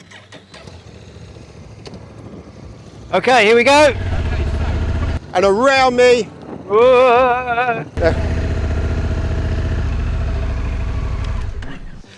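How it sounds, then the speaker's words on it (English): A semi-automatic adventure motorcycle on a training area starts and settles into a running idle, its low engine note continuing under a voice as he speaks over it. "start your engine."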